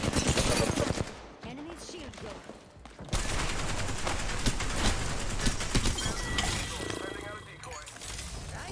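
Rapid automatic weapon fire in the battle royale shooter Apex Legends rattles close and loud in dense bursts, dips into a brief lull, then resumes in a sustained barrage layered with clattering game effects and some voice activity underneath.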